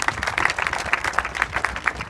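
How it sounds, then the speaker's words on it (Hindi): A classroom audience of children claps for a girl in a short, brisk burst of applause, close and fairly loud. "ताली बजाओ उस बच्ची के लिए।"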